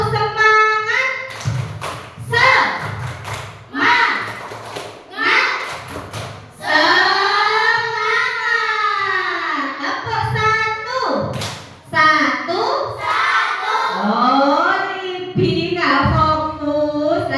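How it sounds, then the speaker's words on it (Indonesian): Schoolchildren in a classroom perform tepuk semangat spirit clapping: sharp rhythmic group claps and thumps alternate with loud, chanted children's voices, all close and energetic. "mari kita tumbuhkan rasa semangat hari ini dengan tepuk semangat yang biasa kita lakukan"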